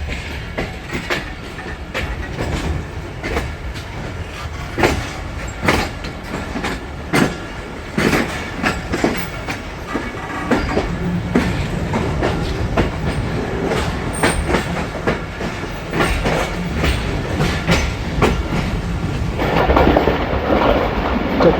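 The Pakistan Express passenger train, number 46 down, runs on rails between Rawalpindi and Abdul ul Hakim, with a steady loud rumble and rhythmic clickety-clack of wheels over rail joints building throughout, no talking.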